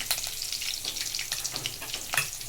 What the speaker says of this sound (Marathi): फोडणी कडकडीत झाली की गॅस आपल्याला मंद करायचा आहे